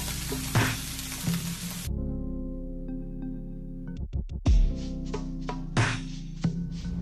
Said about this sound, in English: I'm just gonna mix in the sausage and onion